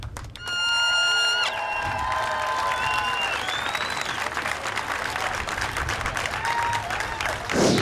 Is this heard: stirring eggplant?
no